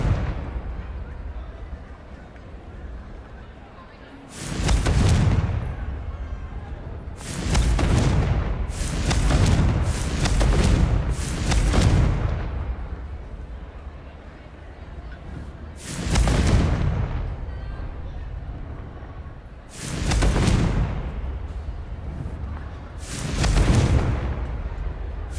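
Confringo spell explosions in Hogwarts Legacy, a series of loud booming fiery blasts in bursts, some single and some clustered close together, with gaps of quieter rumble between them.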